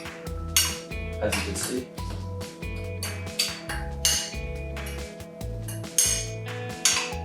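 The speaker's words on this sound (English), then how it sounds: "We're gonna stir it up really good before we put the wet ingredients in." Spoon stirring dry mug-cake ingredients, flour with baking soda and salt, in a mug: repeated scraping and clinking strokes in a steady rhythm, close and fairly loud, with faint background music and a brief voice.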